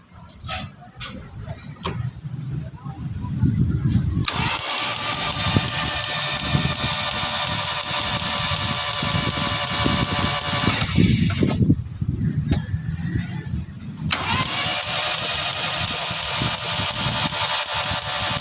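A Toyota Starlet engine turns over and starts, then runs with a steady, rough idle that dips briefly before carrying on, close by and loud, during a light service with an oil change.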